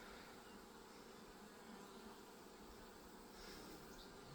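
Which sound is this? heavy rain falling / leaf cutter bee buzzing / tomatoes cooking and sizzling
leaf cutter bee buzzing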